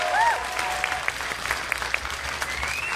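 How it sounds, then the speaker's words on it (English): A crowd at a Chester Bennington memorial gathering applauds in a continuous roomful of clapping, with a couple of sharp whistles near the start and scattered louder claps standing out. "Please give her a round of applause."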